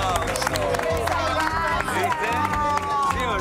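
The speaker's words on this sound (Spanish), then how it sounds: "Un aplauso." A television studio audience gives dense, steady applause with cheering and crowd noise, and voices are mixed in throughout.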